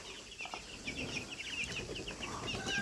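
Two-and-a-half-month-old Fayoumi and native chicken chicks, heard as a cluster of repeated high chirps and clucks from several birds close by, over a steady background hiss.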